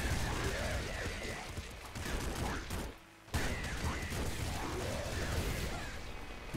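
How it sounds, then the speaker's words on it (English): Explosions in the video game Nuclear Throne, a dense, loud continuous roar of blasts and crackling that drops away briefly before the din resumes. "We just keep moving and spamming explode."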